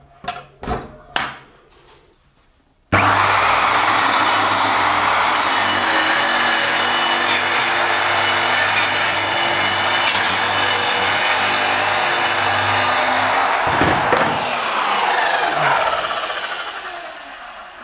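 Power saw cutting through an interior wooden door, a few short knocks at the start, then a loud continuous whining cut lasting about eleven seconds before winding down and fading.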